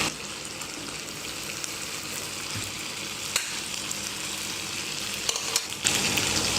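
Chicken pieces go into a hot kadai for tandoori chicken, giving a steady moderate sizzle with a few soft clinks near the end, and no one talking.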